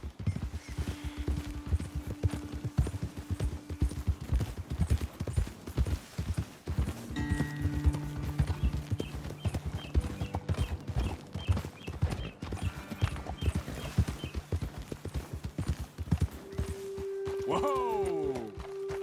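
Horse hooves clip-clop steadily in the video game Red Dead Redemption 2, close, rhythmic and continuous over a mountain trail, with game voices and music tones layered in and a snorting whinny near the end.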